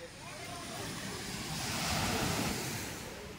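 Surf rolls steadily onto the beach at Puerto Galera as a broad wash of breaking waves, swelling slightly midway. Wind buffets the microphone, and no one speaks.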